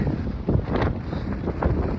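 Strong wind on a Mt Whitney day hike roars steadily across the microphone, a loud, continuous gusting rumble with surging swells and no voices.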